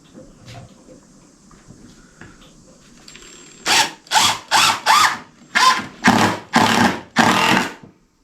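A power drill drives 2.5-inch deck screws into wood while an Adirondack chair is being built, with seven loud, close bursts of whirring and grinding following a quiet stretch, each lasting about half a second and separated by short gaps.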